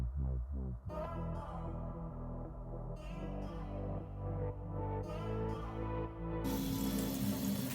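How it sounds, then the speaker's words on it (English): Tap water runs steadily over beans in a strainer in a sink, splashing and gurgling continuously, growing brighter and louder toward the end. "I also let water run over the beans."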